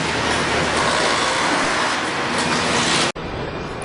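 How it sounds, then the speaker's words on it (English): A Hyundai Motor Manufacturing America car plant, where robots weld car bodies, fills the space with a loud, steady industrial roar and clatter. The noise cuts out for an instant near the end, then returns just as dense. "you can see this Hyundai plant here. It's a little noisy"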